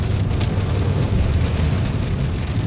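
Rain beats on the windshield of a moving Tesla Cybertruck while the wipers run at a faster setting, a steady dense hiss with road rumble underneath and no voices.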